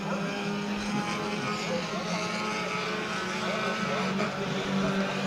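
Race cars running a heat race at New Smyrna Speedway make a dense, continuous engine roar. Several cars drone together at a steady, loud level without a break.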